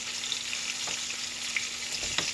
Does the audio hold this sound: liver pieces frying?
yes